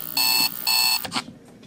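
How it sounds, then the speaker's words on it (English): A SoundGear SGCCR digital AM/FM alarm clock radio beeps in two loud, shrill bursts, then cuts off, followed by a couple of faint clicks. "Even with it all the way down, it just is on the alarm."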